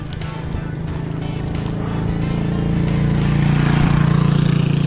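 A motor tricycle passes on a rural road in Villa Verde, San Nicolas, Pangasinan, its engine drone building steadily louder and closer over several seconds with no talk.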